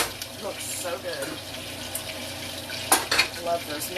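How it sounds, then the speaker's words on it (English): Butter sizzles and bubbles in a pan alongside mixed squash veggies being cooked, a soft crackling fry with a few clinks of a spoon or utensil against the pan. "This butter is just bubbling away."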